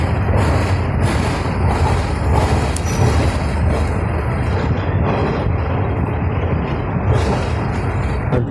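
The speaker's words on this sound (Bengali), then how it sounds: "ট্রেন কিন্তু একদম তার নির্ধারিত সময় 6:15 পুরী স্টেশন থেকে ছেড়ে দিল।" The Puri Barbil Express pulls out of Puri station with a loud, continuous low rumble of rolling rail cars, dotted with faint creaks and mechanical knocks.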